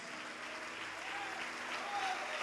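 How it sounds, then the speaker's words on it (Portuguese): A church congregation applauds during a service, the clapping a soft, distant wash that blends with the room's murmur and stays even throughout. "vamos aplaudir ao nome do Senhor Jesus"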